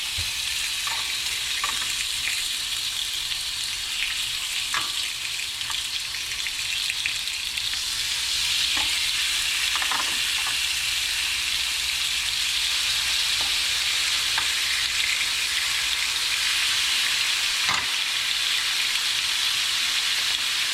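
Turkey steaks fry steadily in a pan over medium heat, a continuous soft sizzle with occasional faint clicks and pops, no voices over it.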